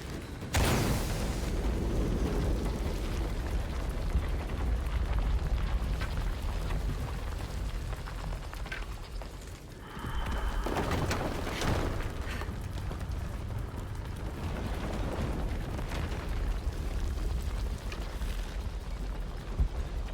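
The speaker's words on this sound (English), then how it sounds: "Another explosion would raise the platform." An explosion raising a platform in Shadow of the Tomb Raider: a sharp blast followed by a long rumbling, crackling roar of debris, with a second surge of rumble partway through, loud and sustained.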